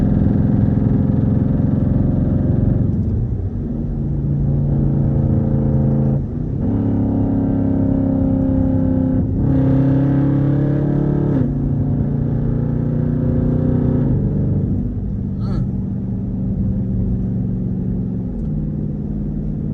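A straight-piped Jeep with raw, unmuffled exhaust while driving, heard from inside as a loud, deep rumble that rises and falls through repeated acceleration and gear changes, with no talk over it.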